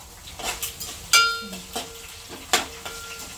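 Onion pieces fry in a pan while a utensil stirs them, giving a soft, continuous sizzle broken by several sharp scrapes and clinks against the metal.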